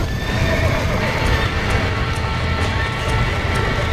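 Horses in the Red Dead Redemption video game whinny and clop their hooves amid a dense, loud game soundscape, with a voice speaking over the commotion.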